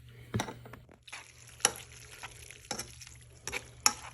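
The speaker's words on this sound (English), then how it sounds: "We're going to give that a stir." Chicken marsala pasta sauce with parmesan cheese being stirred in a pan, quiet bubbling sizzle broken by intermittent scrapes and clinks of a utensil against cookware.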